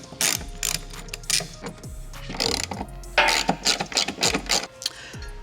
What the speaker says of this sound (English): I'm gonna get the standard version installed by removing these two fasteners.